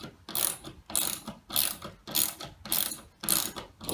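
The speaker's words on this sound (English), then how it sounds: "The second bolt. Tighten this as well." A ratchet wrench clicks in steady bursts while tightening a wall-mount bolt, about six evenly spaced rounds of rapid pawl ticking, close and clear with no talking.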